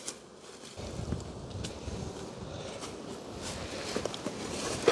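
Steady wind rushes and buffets outdoors, gusting against the microphone throughout with no voices.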